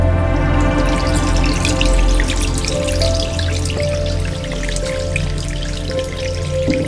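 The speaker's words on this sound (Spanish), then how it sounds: "el hilito de agua por la acequia" A thin trickle of water runs along an irrigation channel on a humid, moss- and fern-lined laurel forest trail on Lomo del Frontón, with soft continuous dripping and small splashes close by and no voices.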